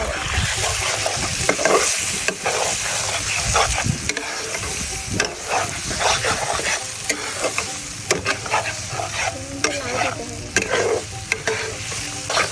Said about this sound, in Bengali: এবার আমি চিংড়ি মাছটা ভালো করে কষিয়ে নেব